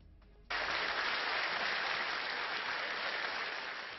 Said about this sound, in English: a handshake leading to applause